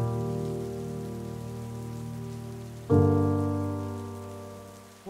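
Steady rain falls in a Roblox game, a continuous hiss of drops with a sudden louder surge partway through, no voices over it.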